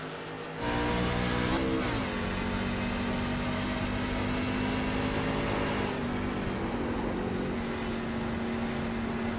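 Racing trucks at Homestead roar off the green flag, a loud sustained engine drone that rises in pitch as the pack accelerates, with no talking over it.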